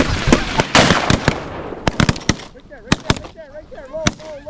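Shotgun blasts ring out during a duck and goose hunt in an Alberta blind, a rapid volley of loud, sharp reports followed by a few more scattered shots, with duck calls quacking near the end.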